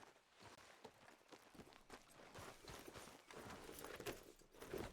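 Horse hooves clip-clop at a walking pace in the Red Dead Redemption 2 video game, a faint, steady, uneven patter over soft outdoor ambience.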